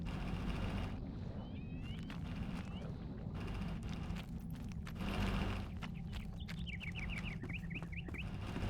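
Birds chirping outdoors in the video game Enshrouded, short high twittering calls in a few scattered bursts over a steady low ambient rumble.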